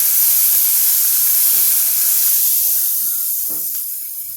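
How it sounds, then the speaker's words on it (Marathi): Black-eyed peas (chavali) dropped into a pan with coconut and ground garlic, giving a loud, steady steamy sizzle and hiss that fades slightly toward the end, with no one speaking. "3 चमचे मी यामध्ये खोबरं आणि वाटलेलं लसूण घातलं आणि आता मी चवळी याच्यात टाकते"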